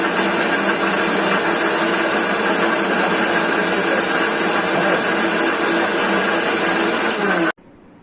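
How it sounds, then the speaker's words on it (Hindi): A blender grinds mango, sugar and milk into a thick milkshake, its motor roaring loud and steady with no talk for over seven seconds before cutting off abruptly. "अभी इसको हम ग्राइंड कर लेंगे अच्छी तरह से।"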